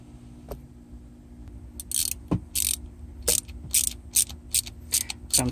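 Ratcheting clicks from a wrench torquing down bolts on a T56 transmission shifter, coming in short repeated bursts with pauses between, close and fairly crisp over a quiet background.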